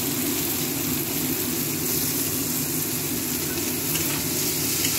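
Carrots sizzling in a hot wok, a steady broadband frying hiss with low stirring rumble, continuous and close throughout, no talking.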